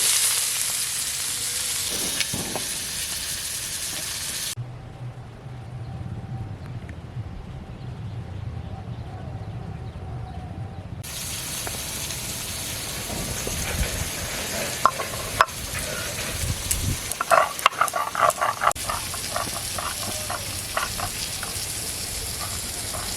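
Onions sizzling and frying in a pan for a Bengali chicken curry with elephant foot yam, a steady close hiss with stirring scrapes and clatter toward the end.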